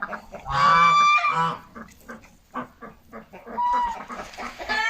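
Geese kept with farmyard chickens and ducks in a village yard honk loudly and repeatedly at close range, overlapping calls rising and falling with some clucking mixed in.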